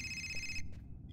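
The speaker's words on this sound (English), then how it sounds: "Again the phone?" An electronic telephone ringing in the Indigo Prophecy video game, a steady bright ring lasting about half a second and then cutting off abruptly, followed by a brief faint chirp over low background game ambience.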